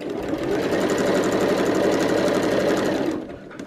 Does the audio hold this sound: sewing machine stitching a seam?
yes